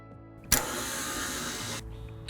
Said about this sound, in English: So the butter and sugar has finished whipping and it's really fluffy and creamy.